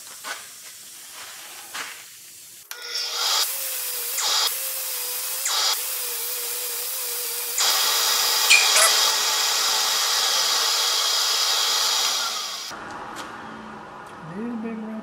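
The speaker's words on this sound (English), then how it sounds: "I'm going to go ahead and drill from here and start hauling the bottom out" A drill whines steadily into a wooden bowl in several bursts, hollowing out the bottom, growing louder and harsher midway, then cutting out to quieter handling noises near the end.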